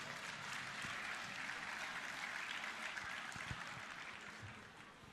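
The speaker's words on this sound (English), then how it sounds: "Please, a round of applause for Mr. President." A large audience applauds at the closing ceremony of a Nigerian accountants' conference, steady dense clapping heard from a distance, filling the hall at an even level throughout.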